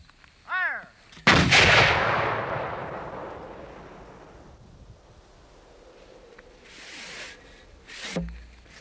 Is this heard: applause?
no